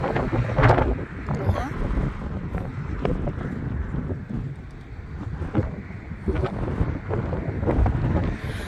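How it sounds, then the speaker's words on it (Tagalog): Gusty wind buffets the microphone by the sea, rumbling in uneven surges while people talk intermittently underneath. "Mahangin siya pero hindi masyadong ano, yung alon ba"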